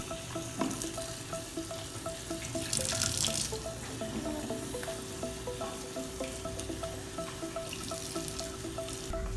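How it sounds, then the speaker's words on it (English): Pointed gourds are washed under a running kitchen tap, a steady close rush of water with splashing and faint clinks, and nobody speaks. "First, wash the potal properly."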